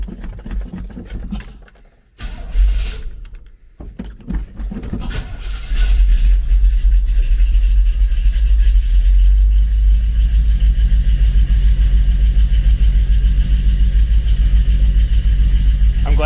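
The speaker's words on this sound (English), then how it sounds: "I'm just gonna go ahead and start this thing up" A Chevy C10 pickup with a new aluminum radiator and fan cranks and catches after some key jangling, then settles into a loud, steady rumbling idle close by.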